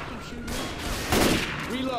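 Gunfire in the zombie shooter Left 4 Dead 2 during co-op play, a dense burst of rapid shots swelling to a loud peak midway, mixed with game effects and voices talking over it.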